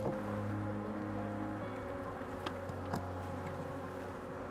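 Honey bees buzz around a hive during organic honey production in Fujairah, a steady close droning hum with a couple of faint clicks, no talking.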